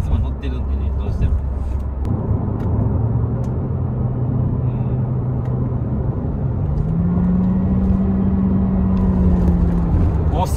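Engine of a current gasoline turbo Honda Civic accelerating, heard from inside as a steady low drone that rises in pitch partway through, with continuous road rumble throughout.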